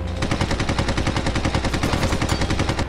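Rapid machine gun fire from fighter planes in the Red Wings: Aces of the Sky video game, a loud sustained stream of fast evenly spaced shots running without pause.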